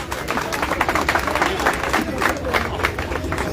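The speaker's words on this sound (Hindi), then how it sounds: "जोरदार तालियों का स्वागत किया जाए।" A crowd at an election campaign rally in India claps steadily to welcome a speaker, a dense continuous patter of many hands with a general crowd murmur underneath, loud and sustained without a break.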